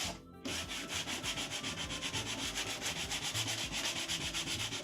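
Steady, close scratchy sanding rubs back and forth over painted wood, wearing paint off a wooden chest to give it a weathered, scratched look; no voices.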